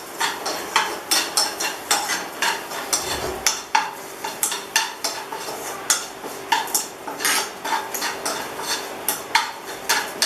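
Apples with a little sugar cook in a pan, with a soft sizzle under rhythmic, repeated metal clinks of a utensil stirring against the pan, close and fairly quiet.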